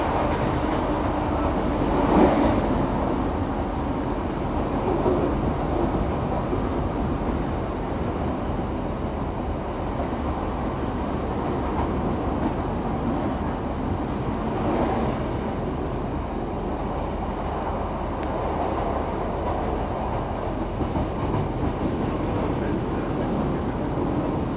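Steady rumble of a Northern rail passenger train running through a long tunnel between stations on the Barnsley to Huddersfield line, a continuous loud roar with a couple of brief swells, heard from inside the carriage.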